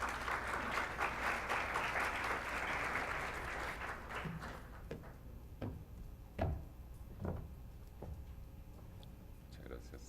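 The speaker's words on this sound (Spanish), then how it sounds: "Un aplauso, por favor." Audience applause at a formal presentation, loud sustained clapping for about four seconds that fades out, followed by a speaker talking over quieter room sound.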